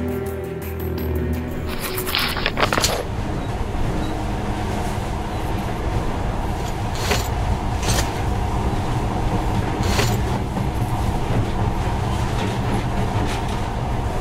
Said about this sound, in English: But now, this monorail seems magic, doesn't it?